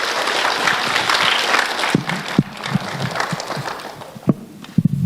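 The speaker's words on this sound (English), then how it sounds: "please give them another round of applause" Applause from the audience at a youth award event in Toronto, a steady wash of many hands that loosens into scattered, separate claps near the end.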